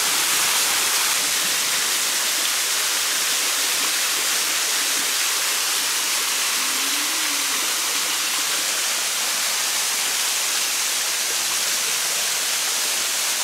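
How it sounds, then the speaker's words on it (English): A small waterfall on Christmas Island, Australia, heard up close as a steady, loud, hissing rush of falling water that fills the whole stretch with no break. "This is the waterfall. Really small."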